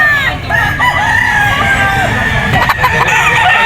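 Roosters and bull stags with yellow legs crow and cluck at a busy pet market, several birds calling over one another up close with steady crowd chatter underneath.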